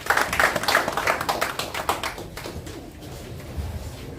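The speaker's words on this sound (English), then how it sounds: "Please, a round of applause for him." A round of applause at the commissioning of a public health emergency operations centre in Edo State: a burst of clapping that starts strong, then thins out and fades over a few seconds.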